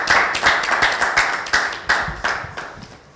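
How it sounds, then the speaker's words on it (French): A talk show audience claps in a steady, rhythmic beat, the loud, close applause pulsing about every third of a second and slowly fading, with no speech. "Applaudissez très fort, on la reçoit."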